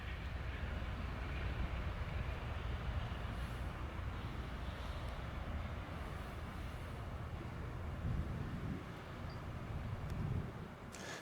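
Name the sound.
Amtrak train pulled by a P42 locomotive passing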